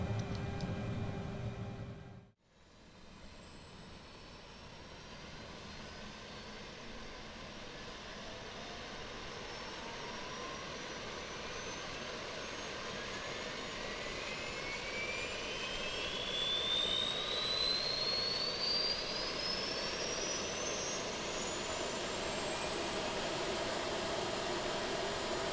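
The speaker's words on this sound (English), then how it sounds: "we can go ahead and spool up the APU" The auxiliary power unit of an Aerosoft CRJ900 regional jet in a flight simulator winds up after a brief dip, a rising whine climbing steadily over a constant turbine roar.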